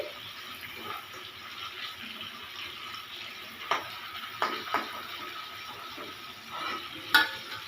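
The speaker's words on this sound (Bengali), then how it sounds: "এবারে চিকেনটাকে নাবিয়ে দিচ্ছি একটু হালকা ভেজে নিয়েছি" Chicken pieces lightly frying in a pan give a soft, low sizzle, with a few scraping stir and clatter sounds from a utensil, close but quiet, no voices.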